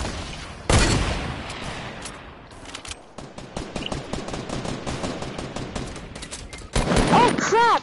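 Bursts of automatic gunfire from a Fortnite match, sharp loud volleys at the start and again near the end with steadier crackling shots in between, while a voice talks over parts of it.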